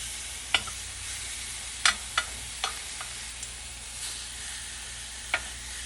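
Steak sizzles steadily in a hot pan just after being flipped, a constant soft frying hiss broken by a few sharp clicks and scrapes of the utensil against the pan.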